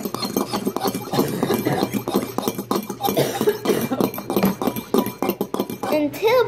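A fork stirs and clinks against a bowl in a dense run of small metallic taps and scrapes, close by and partly under people talking.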